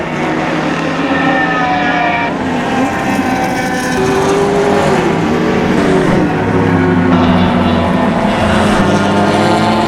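Closed-wheel race cars run through the course at Mission Raceway, their loud engine notes rising and falling as several cars pass in turn. The engines are heard continuously, with no speech.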